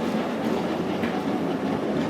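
A vintage Bendigo tram, a former Adelaide car, runs on rails with a loud, steady rumble and rolling wheel noise throughout.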